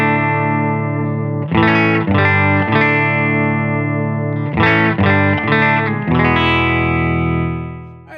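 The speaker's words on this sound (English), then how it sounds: "I am plugged into a Benson Amps Monarch Reverb Plus, and that sounds like this." A Fidelity Stella Rosa Lite electric guitar with gold foil pickups plays through a Benson Amps Monarch Reverb Plus amplifier. Loud, rich, slightly driven chords ring out and sustain, restruck several times before fading at the end.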